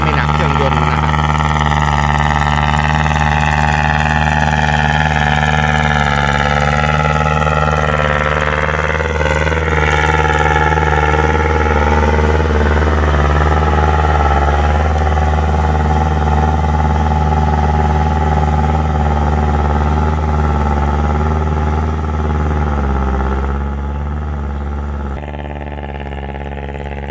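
A Kubota L5018 tractor engine with an aftermarket exhaust pipe runs steadily at idle in a field, a deep rumbling drone with a throaty exhaust note that fades slightly toward the end.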